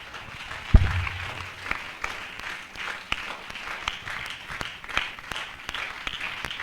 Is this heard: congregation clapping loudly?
yes